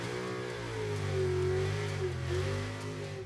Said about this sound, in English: this is a modern-day Charger featuring the brutal bark of a Hemi V8 engine